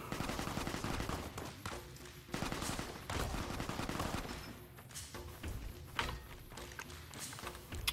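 Gunfire from the video game Fallout New Vegas crackles in dense, repeated bursts of shots, fairly faint overall, with scattered footstep-like taps between volleys.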